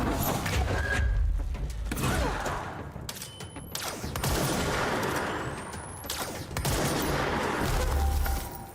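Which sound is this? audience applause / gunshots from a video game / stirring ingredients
gunshots from a video game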